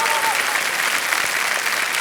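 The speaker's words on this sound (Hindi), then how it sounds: "एक बार फिर जोरदार ताली आ जाए" A studio audience on the Kaun Banega Crorepati Season 14 set claps loudly in a dense, continuous round of applause that fills the whole stretch.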